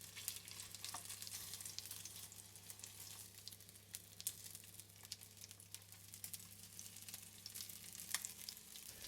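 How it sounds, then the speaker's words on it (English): Quiet, continuous sizzling of sausage-meat stuffing balls frying in oil in a pan, with small crackles and pops scattered throughout and no voices. "And place a few of the balls in the frying pan."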